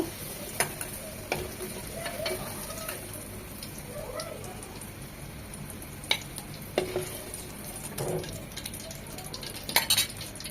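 Potatoes fry lightly in oil with a soft, steady sizzle, broken by occasional scrapes and taps of a utensil stirring the pan.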